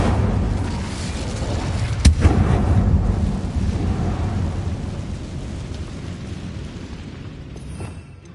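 A fire spell cast in the game Hogwarts Legacy bursts with a sharp boom near two seconds, then a loud, sustained roaring rumble that slowly fades over several seconds.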